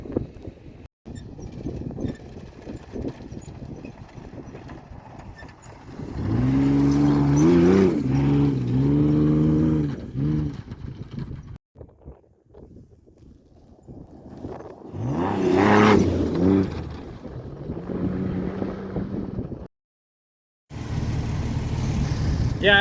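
A trophy truck drives and revs, its engine rising in two strong pulls between quieter rumbling stretches, fairly close, with a brief drop to silence near the end.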